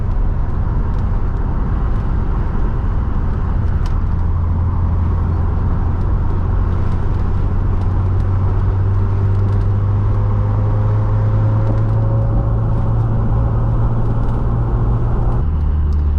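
A supercharged Honda S2000 engine drones steadily at low revs, with a low hum rising gently in pitch and then settling, over constant road noise.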